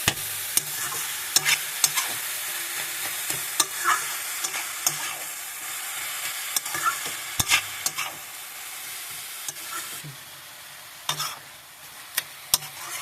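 Carrot halwa being stirred in a pan after sugar is added, a spoon scraping and clacking in steady irregular strokes over a soft sizzle, close and fairly loud, with no voices.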